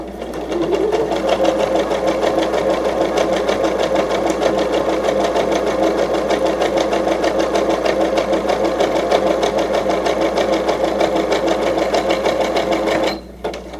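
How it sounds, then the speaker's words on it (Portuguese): A sewing machine runs continuously for about thirteen seconds, making a steady, loud, even mechanical whir and rapid stitching rhythm for a safety seam on a remote-control holder with batting, then stops abruptly. "Fazendo essa costura de segurança para que eu tenha um acabamento perfeito na minha peça"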